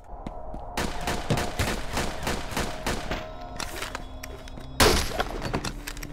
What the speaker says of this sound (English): I know you're shooting at me